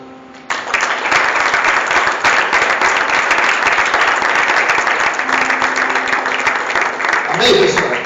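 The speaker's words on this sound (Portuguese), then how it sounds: "Então aplauda o Senhor." Sustained congregational applause fills a church youth service, dense steady clapping from a large crowd that starts abruptly and carries on loudly, with a voice briefly over it near the end.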